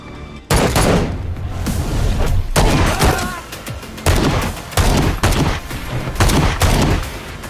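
Gunfire in an action film shootout: loud, close bursts of rapid shots and booming impacts arrive in repeated clusters, with brief gaps between volleys and faint voices now and then.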